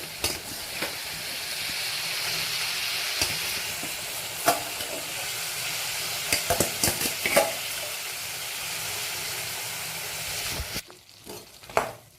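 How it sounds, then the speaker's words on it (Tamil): Brinjal and tomato fry in a pan with a loud, continuous sizzle and hiss, broken by a few scraping stirs, before the frying sound drops away near the end. "இதுக்குள்ள நம்ம இப்போ வந்து கத்திரிக்காய் சேர்த்துருக்கோம். வேற நல்லா வறுபடட்டும்."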